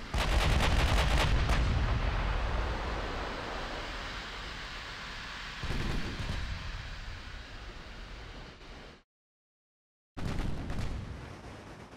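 Naval gunfire from warships in the Ultimate Admiral Dreadnoughts game, heavy booming shots with long rumbling decays, a big salvo at the start and another midway, then a brief silence before further firing resumes.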